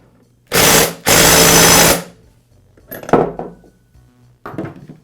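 An impact wrench fires two loud bursts back to back, driving a chainsaw clutch on with an installation tool, followed by clatter of parts and tool handling on a workbench.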